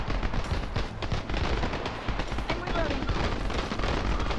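Dense, continuous gunfire in the Wars and Roses video game, a steady rattle of overlapping shots and impacts filling the whole stretch with a constant loud crackle and no real pause.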